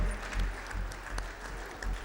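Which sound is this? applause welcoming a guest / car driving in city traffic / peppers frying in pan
applause welcoming a guest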